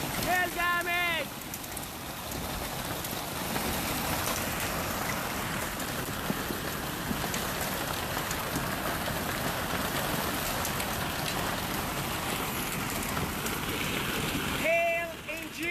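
A heavy hailstorm in June pelts city streets in Canada with a steady, dense roar of ice hitting pavement that continues unbroken; a few brief chirping tones appear at the start and end.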